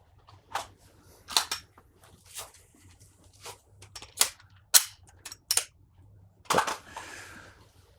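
Shots fired at a target on a shooting range during special-forces-style training, heard as sharp, fairly soft cracks spaced irregularly about a second apart, with quiet pauses between them.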